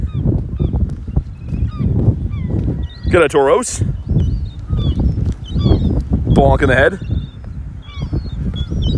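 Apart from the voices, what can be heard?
geese honking in the background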